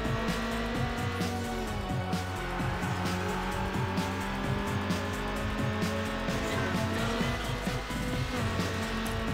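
Cars race in Need for Speed Underground as a continuous engine drone that rises and shifts pitch through gear changes, with tire noise layered in and no pauses.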